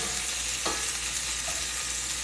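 Sausages frying in a cast iron skillet give a steady, close sizzle with a brief sharper spit of fat partway through, and no voices over it.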